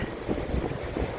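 Strong wind roars across the beach at Bude in Cornwall, a steady broadband rumble buffeting the microphone with surging gusts and no voices.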